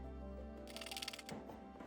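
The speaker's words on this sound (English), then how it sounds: "Now I'm going to cut this on the inside of the line." Scissors snip and crunch through a thin plastic shelf liner in a short burst of crisp cutting sounds, close by, over a low steady hum.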